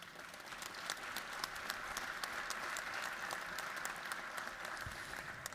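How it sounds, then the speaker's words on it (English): An audience applauds to honor an Air National Guard airman and cybersecurity expert being recognized at a formal event: steady, dense clapping from a large crowd, even and sustained for several seconds at moderate distance. "Can we give a round of applause for Airman Engel?"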